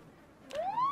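In the video game Project Zomboid, an alarm starts sounding halfway through: a sharp onset, then a steadily rising electronic wail that grows louder toward the end.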